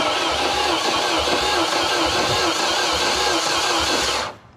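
A boat engine cranks continuously during a spark plug test, a loud, even whirring churn with a faint rhythmic pulse that runs steadily and then cuts off abruptly near the end.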